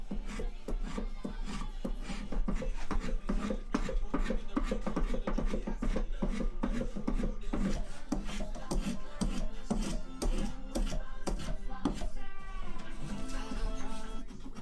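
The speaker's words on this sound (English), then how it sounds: "I used a spoke shave to start shaping the leg tapers" A spokeshave shapes the tapers of wooden cabinet legs held in a vise, rapid repeated rasping strokes at a steady rhythm, close and crisp with no talking.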